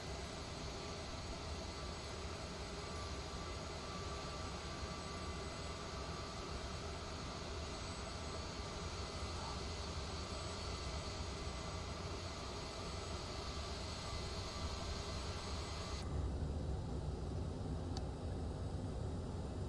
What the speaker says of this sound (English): Engines are running